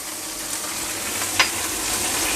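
Chili flakes and soy sauce sizzle in a hot pan while Mongolian beef cooks, a steady close frying hiss with one brief sharper spatter near the middle and no talking.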